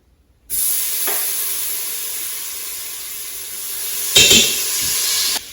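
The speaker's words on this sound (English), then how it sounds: "we'll just get that sauteing in the Instant Pot now" Garlic and onion powder sizzle steadily in a hot Instant Pot on sauté, a close, continuous hiss that starts abruptly, with a couple of utensil knocks and a brief louder flare near the end.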